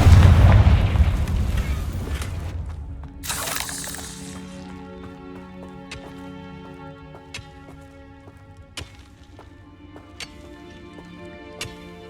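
Explosive Confringo and Bombarda spells cast in a video game: a deep booming blast rolls out, a second sharp burst follows, then fading ringing tones punctuated by regular ticking clicks.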